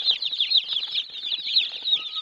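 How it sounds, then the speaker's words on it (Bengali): Tiger breed chicken chicks in a crowded brooding pen on a farm, a continuous high chorus of many peeping chicks, close and steady, with no talking. "ভিউয়ার্স দেখতে পাচ্ছেন যে টাইগার মুরগির বাচ্চা এখানে কত বাচ্চা রয়েছে।"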